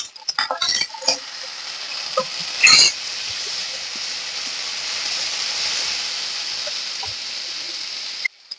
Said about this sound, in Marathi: आता यामध्ये आपण टोमॅटो घालायचा आहे